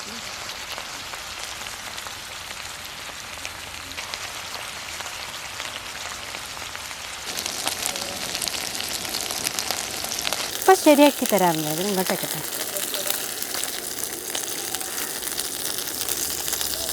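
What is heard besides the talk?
masala-coated fish frying in a pan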